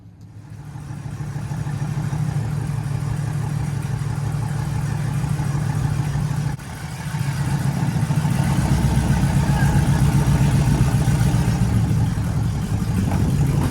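A 1957 Chevy rat rod's engine fires up outdoors in light snow and runs loud and steady, a rough low idle that brightens into revving after a brief dip midway, with no talk.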